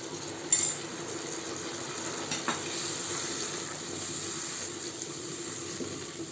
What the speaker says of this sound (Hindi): ये जो हमने सॉस बनाया है वो ऐड कर देंगे।